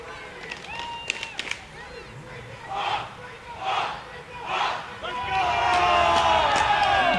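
Crowd cheering along a summer community parade route, rising in swells that grow into a sustained roar of voices near the end.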